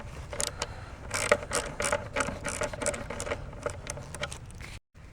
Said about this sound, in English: If you have a ratcheting wrench, this works really well.